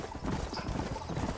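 Horse hooves clip-clopping in Red Dead Redemption, a steady close rhythm of hoofbeats over dense ambient noise, running throughout without speech.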